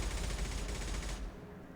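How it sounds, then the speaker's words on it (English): Gunfire in the Mass Effect 2 video game rattles in a dense, steady burst of rapid shots, loud and continuous, cutting off abruptly after about a second and a quarter. "There's gonna be some more gunfire soon."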